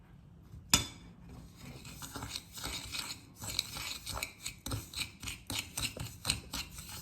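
A spoon stirs a scrub of turmeric, sugar and honey in a bowl, making quiet gritty scraping and irregular clicking taps that grow busier and more rhythmic after a sharp first knock.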